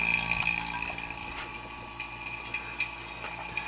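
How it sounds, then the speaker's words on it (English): A small vacuum pump hooked to a Subaru's A/C system runs with a continuous mechanical hum and light rattling ticks, close by and alone. "let's turn on our little vacuum pump"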